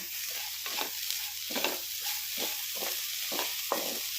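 Moong dal and amaranth greens fry in a non-stick pan, a soft constant sizzle with regular rhythmic scraping strokes of a spatula, fairly quiet and close.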